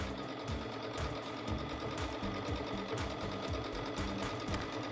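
A Chorus sewing machine runs steadily during free motion quilting, its needle hammering in a rapid, even mechanical rhythm close by, with no talk.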